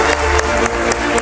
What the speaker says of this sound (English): one more final thunderous round of applause